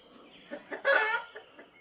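Chickens around a barn give a few soft clucks and a short louder squawk near the middle, fairly close over a quiet outdoor background with a faint steady insect-like hiss.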